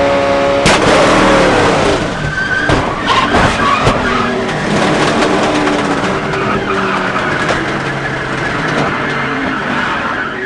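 A race car crashes and explodes during practice at Talladega in an Amp Energy 500 weekend, heard from on board: loud sustained engine roar and tire skidding with sharp impact bangs and crunching, continuing as a dense, noisy rumble throughout.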